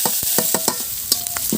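Chopped onions hit hot oil tempered with cumin in a pan, a loud, close, steady sizzle broken by quick stirring scrapes and small spattering pops.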